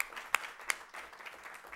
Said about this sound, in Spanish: Y le vamos a dar un fuerte aplauso.